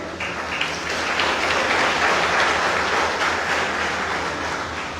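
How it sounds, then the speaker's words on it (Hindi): Loud sustained clapping from a large audience at a convention hall, a dense, even roar of hands lasting several seconds with no talk over it. "अब तालियां बजाएंगे तो बजाई दो सब लोग जोर से"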